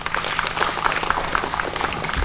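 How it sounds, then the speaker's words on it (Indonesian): A crowd at a palm oil replanting program meeting gives the committee members a short round of clapping, steady and moderately loud, with irregular individual claps throughout. "Untuk itu tepuk tangan untuk pengurus dulu."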